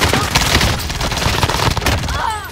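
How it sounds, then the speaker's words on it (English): Gunfire in a video game shootout: rapid, dense shots close by and loud, carrying on through the whole short stretch with no pause. "I'm under fire!"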